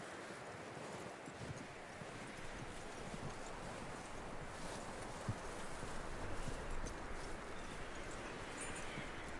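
Horse hooves clip-clopping in the video game Red Dead Redemption 2, a steady run of hoof beats under wind-like rushing noise, moderately close and continuous throughout.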